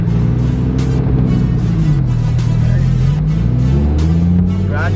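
A Lamborghini Huracan's engine pulls through a gradual acceleration, its deep drone sweeping and rising steadily and loud throughout, close up from inside the car.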